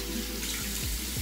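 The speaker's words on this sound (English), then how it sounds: "You guys probably can't hear me because of the tap running" Water runs steadily from a bathroom sink tap, a loud, close, continuous splashing stream with no voice over it.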